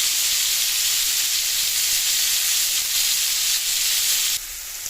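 Steak sizzles loudly in a hot pan while being stirred and turned, a dense, steady hiss that holds unbroken and dips slightly near the end, with no talking.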